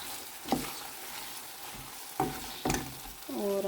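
Tomatoes hitting a pan of frying onion masala, sizzling steadily at low level with a few sharp stirring clatters and scrapes of a spoon against the pan, no talking.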